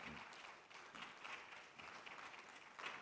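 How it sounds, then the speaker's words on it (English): Audience applause at the Afreximbank Annual Meetings 2023, a steady wash of many people clapping, heard at a moderate distance and fairly quiet, with no talk over it. "maybe some applause."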